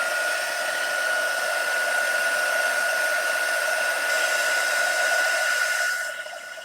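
A hair dryer blows steadily on eggs inside a birdcage, a constant close whine with a strong tonal hum that holds evenly for about six seconds before switching off and fading at the end.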